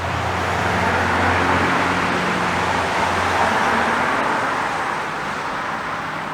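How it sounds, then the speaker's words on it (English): Steady, loud roadside traffic noise as cars pass continuously nearby, a broad rushing wash with low engine rumble underneath and no talking. "All these cars are loud as hell."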